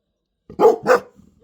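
Two sharp, close barks in quick succession from one of three household dogs, followed by a brief low murmur.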